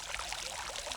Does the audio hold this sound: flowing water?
yes